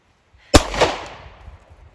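A single sharp pistol shot cracks out loud and close at an outdoor shooting range, with a quick broadband burst and a short echoing tail that fades over about a second. There is no talking.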